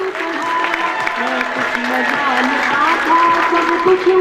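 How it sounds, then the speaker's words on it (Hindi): Audience applause for a senior teacher at a boys' high school farewell party, clapping running continuously beneath a loud voice and tonal music-like sound throughout. "आपके भरपूर तालीम में सर के लिए भरपूर तालियां।"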